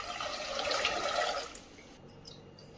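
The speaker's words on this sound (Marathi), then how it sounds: "आता इथं पाणी टाकायचं आहे आपल्याला" Water pours into a pressure cooker on a gas stove in a steady splashing stream for about one and a half seconds, then stops, followed by a few faint drips and clinks.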